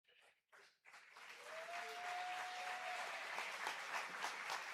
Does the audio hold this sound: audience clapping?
yes